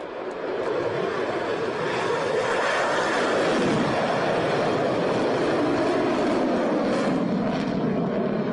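Sound effect of a jet airplane played during a Bitcoin livestream, a steady roaring engine rush that holds for the whole stretch at moderate, distant-sounding volume with no talk over it.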